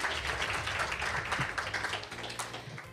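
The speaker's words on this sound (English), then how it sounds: "Let's first give a round of applause for our team, our board members, and our volunteers" Audience applause at a chamber welcome event, honoring the team, board members and volunteers, a dense steady wash of many hands clapping, fairly close and sustained throughout with no one speaking.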